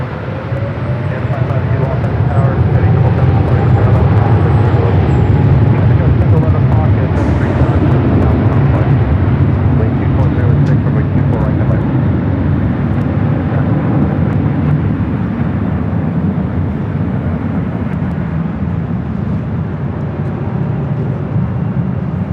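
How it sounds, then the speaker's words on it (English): A Philippine Airlines Boeing 777-300ER takes off from LAX bound for Manila, a loud sustained jet roar that swells and holds across the whole stretch, with voices talking over it. "This is Philippine Airlines 113 taking off to Manila on the 777-300ER."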